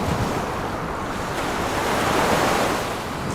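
Sea waves at the shore, a loud, continuous roar of surf with wind buffeting the microphone, close and steady throughout, with no voices.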